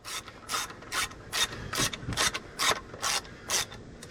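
A ratchet running down a bolt on a 2009 Ram water pump, giving close, rhythmic bursts of ratcheting clicks, about eleven quick strokes at a steady pace with no talking.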